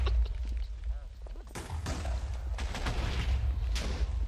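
TNT blocks exploding in a video game, a series of booming blasts with crackling debris that follow one another closely over several seconds, loud and up close, with a voice talking under them.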